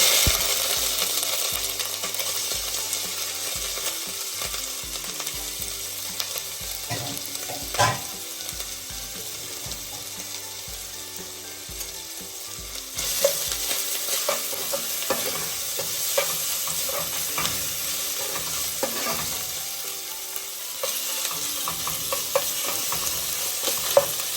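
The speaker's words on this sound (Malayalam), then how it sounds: "കടുക് പൊട്ടി അതിലോട്ട് നമുക്ക് ഇഞ്ചിയും വെളുത്തുള്ളിയും ചേർത്ത് കൊടുക്കാം." Ginger and garlic sizzle steadily in hot oil with popped mustard seeds while a spoon scrapes and stirs the pan, with occasional sharp clinks against the metal.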